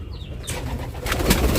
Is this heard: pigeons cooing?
yes